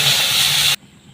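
Water poured into a hot pan while cooking vegetables for chicken momos, producing a loud, sharp burst of steamy sizzling hiss that cuts off abruptly after under a second, leaving quiet.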